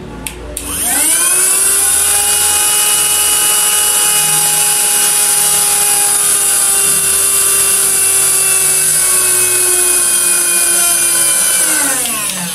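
A rechargeable vacuum cleaner motor on a weak 3.4-volt battery under load whines steadily with a high, tonal hum, then its pitch sags and the sound winds down toward the end.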